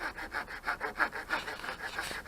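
A hand saw rasps back and forth through a wooden branch outdoors in a steady rhythm of about three strokes per second, quiet and close.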